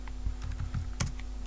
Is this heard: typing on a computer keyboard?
yes